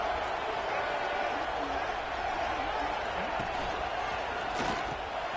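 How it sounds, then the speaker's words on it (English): A stadium crowd at a Kingsman BAMA versus FU football game late in a close contest makes a steady, loud, broad roar that holds throughout without a break. "they'll have to conquer this crowd noise"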